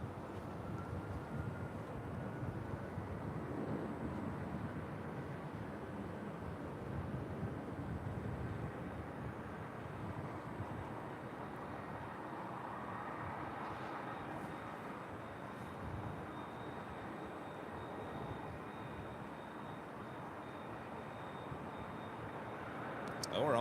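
Iberia airliner on flight 6170 bound for Madrid at LAX, a steady broad jet roar filling the whole stretch at a distance, with chatter faintly underneath.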